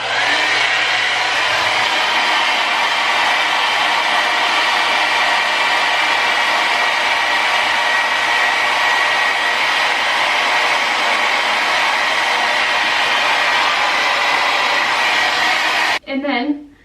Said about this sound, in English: I just take my brush like this, gather up my hair, and dry the other side.